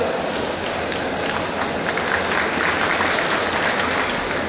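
Steady, dense applause from a conference audience after a motivational speech, continuous and fairly loud throughout, with no voices standing out.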